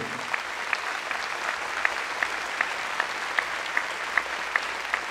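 A church congregation claps loudly and continuously, with a sharp rhythmic beat of hands cutting through the broad applause at a steady pace.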